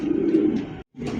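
A big Baghdadi Homa pigeon, a hen close to laying eggs, gives a close, deep, rolling coo that holds steady, breaks off for a short silence, then resumes.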